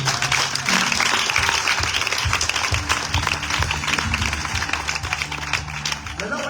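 A church congregation at a Friday service applauds in a dense, sustained wash of clapping, fairly loud and continuous throughout, with voices mixed in beneath.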